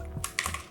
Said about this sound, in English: just type in your name in it. So for example, I'll just type it